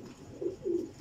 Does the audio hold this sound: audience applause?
no